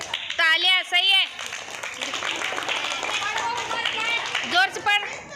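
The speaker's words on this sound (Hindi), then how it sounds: "तालियां।" Children clap in a classroom during an Urdu reading lesson, a short burst of group clapping alongside loud chanting voices that run through most of the moment.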